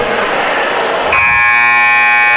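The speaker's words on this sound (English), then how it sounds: "There's the buzzer." A basketball game clock buzzer at a women's college game between Tampa and Florida Southern sounds one loud, sustained electronic tone that cuts in partway through, following a stretch of arena crowd noise.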